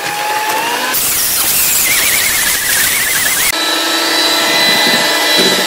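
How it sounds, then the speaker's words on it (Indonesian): Electric mixer beating black sticky rice steamed cake batter at high speed, giving a loud, continuous high-pitched whine that shifts in tone as the beaters work. "Lalu ini di mixer sampai mengental sekitar"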